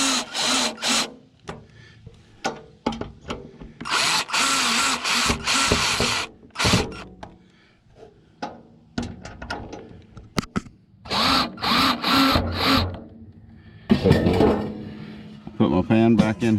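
Screws are tightened down on an RV shelf with a power tool in short, repeated whirring bursts, interleaved with clunks and handling noise while a person talks between the bursts.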